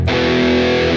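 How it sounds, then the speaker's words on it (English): Electric guitar run straight through amp and cab simulation with effects bypassed, on a Harley Benton Fusion guitar, strikes a single loud distorted rhythm chord that rings out steadily with no talking. "I will play some rhythm chords and chugs."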